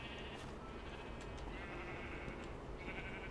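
Sheep in the Minecraft video game bleat in a few short, nasal calls over a steady, loud background of game music and ambience, with no talking.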